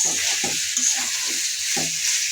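Pieces of country chicken are stirred in a frying pan with spiced masala, giving a soft steady sizzle broken by a few scraping, clattering stirs of a spoon, no voices.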